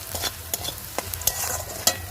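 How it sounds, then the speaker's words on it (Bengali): Onion fries in oil and is stirred in a pan, making a constant sizzle punctuated by sharp, regular scraping and tapping strokes from the spatula, close and clear with no voices. "পেঁয়াজটাকে লাল লাল করে একটু ভেজে নিয়েছি"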